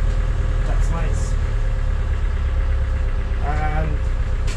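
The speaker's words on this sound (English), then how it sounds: "At least the gearbox and the engine seem to be quite okay." A Land Rover Discovery 1 engine idles steadily nearby, a constant low rumble running beneath faint, brief mechanical sounds and possible voices.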